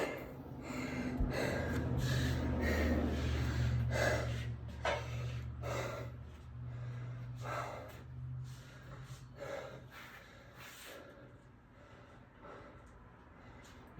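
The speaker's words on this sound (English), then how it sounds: "I'll let my breathing come down for a minute." Heavy, ragged breathing after push-up and pull-up sets, close to the microphone, with loud rapid gasps at first that gradually slow and soften into quieter panting.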